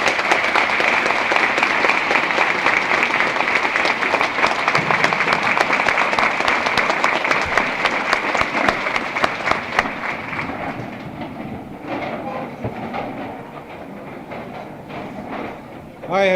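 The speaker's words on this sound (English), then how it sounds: "I think this gathering would like to show their appreciation with some special applause" A banquet audience at a 1969 centennial festival gives sustained applause, dense clapping for about ten seconds before thinning and fading into murmuring room noise and a few scattered claps.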